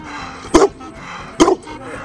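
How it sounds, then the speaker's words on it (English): A small dog guarding a house gives two sharp barks about a second apart, loud and close, with quiet room sound between them. "So this is little True guarding the house"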